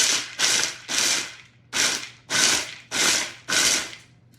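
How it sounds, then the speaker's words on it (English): A food processor coarsely chops one cup of raw shelled pistachios in seven short, loud pulses, each a burst of rattling, clattering whir with brief pauses between. "What we have in the food processor, I have 1 cup of raw shelled pistachios, and I'm going to chop these"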